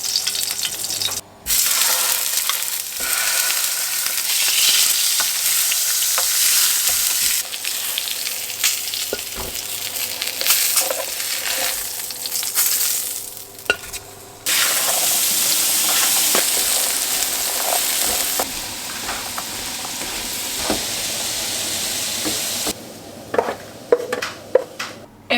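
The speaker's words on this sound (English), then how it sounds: "the first thing I'm going to do is just brown this in this pan with the oil" Diced carrots, celery and onion sizzle and fry steadily in hot oil in a pan, a continuous close crackle with occasional stirring scrapes and brief pauses, no talking.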